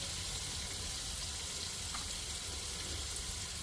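Oil sizzles steadily in a pan with a sambar tempering of mustard seeds, tomato, curry leaves, raisins, turmeric and chili powder, a constant close frying hiss.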